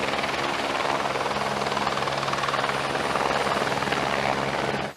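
SAMU emergency medical helicopter arriving at a truck rollover accident scene, its rotor beating in a steady, rapid, loud whump close by for the whole stretch before cutting off abruptly at the end.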